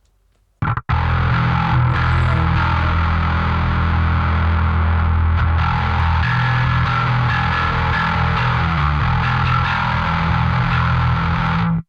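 Electric guitar played through a distortion effect, a thick sustained rock chord that starts suddenly after a short pause and rings on loud and dense for the rest of the clip, with no talk.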